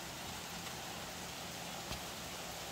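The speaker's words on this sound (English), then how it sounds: "it's been raining since before 2 o'clock this morning" Rain falls steadily on a garden in a dense, even hiss that fills the background, moderately loud and continuous with no voices.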